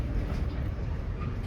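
Amtrak Sunset Limited passenger train riding the rails between Houston and New Orleans, a steady low rumble and hum heard from inside the car, continuous and moderately loud with no talking.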